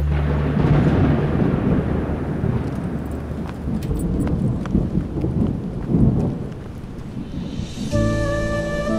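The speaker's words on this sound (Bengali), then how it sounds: "ঝড় হবে, ঝড় পাখিদের জন্য বিপজ্জনক।" A thunderstorm with heavy rain pouring steadily and deep, rolling rumbles of thunder swelling close and loud throughout; a sustained musical tone comes in near the end.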